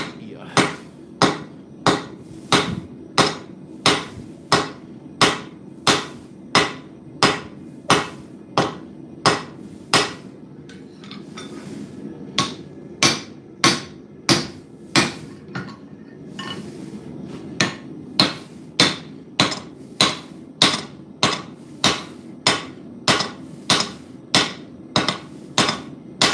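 A hammer's round face strikes metal again and again to draw out an ear, giving sharp ringing blows in a steady rhythm with a brief pause midway, close and clear with little talk.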